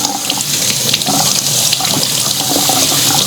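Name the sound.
washing tomatoes and long beans under running tap water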